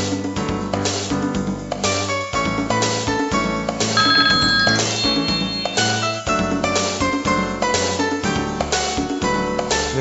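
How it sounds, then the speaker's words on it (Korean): A telephone ringtone announces an incoming caller on a Korean health call-in TV show, playing as a steady, loud, repeating electronic melody that runs continuously for the whole stretch with no talking over it. "자, 오늘의 네 번째 전화겠군요. 받아보겠습니다."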